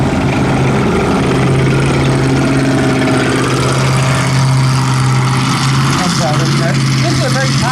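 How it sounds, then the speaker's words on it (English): An M18 Hellcat tank destroyer drives a lap at a military encampment and timeline event, its loud, steady engine roar and rumble going on without a break and sitting close, with faint squeaks toward the end. "we're going to get one more lap or two of our M18 Hellcat"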